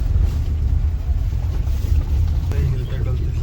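Vehicle rumbling along a badly broken, bumpy jungle road in Abujhmad, Narayanpur, India, with a steady heavy low drone and rattling throughout, and a person talking over it.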